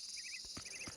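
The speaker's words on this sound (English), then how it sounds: "the birds and crickets singing from the trees and bushes" Crickets chirping in the quiet town ambience of the video game Attack of the Friday Monsters: faint, rapid trilling pulses over a steady high insect drone, with a couple of soft low knocks.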